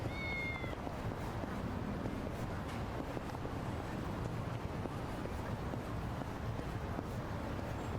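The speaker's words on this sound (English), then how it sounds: "Cat noises." A cat in Yakuza: Like a Dragon gives a short meow near the start, faint over a steady windy, watery ambient background.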